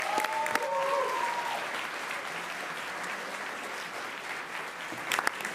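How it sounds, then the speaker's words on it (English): Audience applause fills a school board meeting room, sustained and even over several seconds, a brief voice near the start and a few louder claps as it winds down. "let's give them another round of applause"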